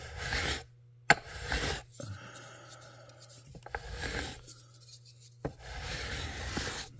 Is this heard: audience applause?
no